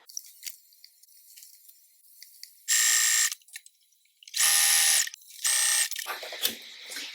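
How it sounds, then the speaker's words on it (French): Sewing machine stitching an integrated bra into a bodysuit, three bright whirring bursts of about half a second to a second each, with quieter handling clicks between them. "Et donc c'est parti pour la couture de la brassière."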